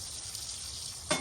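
A ribeye steak sizzles in a cast iron pan on a Coleman camp stove, a steady close hiss of frying fat with a short, louder spatter right at the end.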